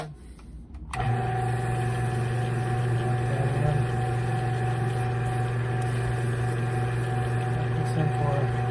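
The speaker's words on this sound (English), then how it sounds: "lower the speed of the lathe to" A wood lathe turns steadily at a lowered speed of about 800 rpm while making an ice cream scoop handle, giving a continuous motor hum with a strong steady tone that starts after a brief quiet moment and runs loud and close.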